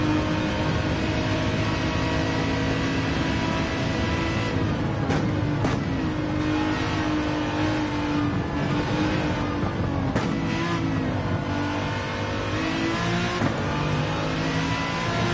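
A racing car engine in Gran Turismo 7 on a Suzuka endurance race outlap, droning steadily and loud throughout, with revs rising and falling and a few sharp shift blips.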